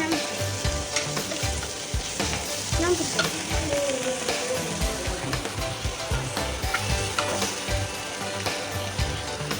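Mixed vegetables stir-frying in a hot pan, a loud continuous sizzle with frequent clanking and scraping of the spatula, close up and with no voices.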